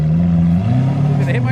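A Ford Mustang engine idles loudly with a steady low rumble, close by, as people talk over it.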